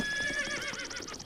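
A horse in Breath of the Wild whinnies close by, a single shrill, wavering neigh that trembles and fades over about a second.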